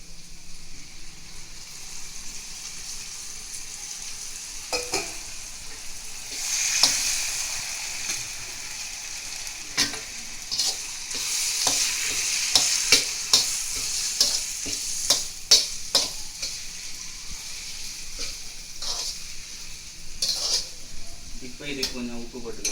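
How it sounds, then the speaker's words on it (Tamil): Chopped tomatoes sautéing in a pan of oil for a Cuddalore-style fish curry, a steady sizzle with repeated sharp scrapes and knocks of a spoon stirring against the pan. "இப்போ நம்ம தக்காளியை போட்டு அதே மாதிரி கொஞ்சம் நேரம் வதக்கணும்"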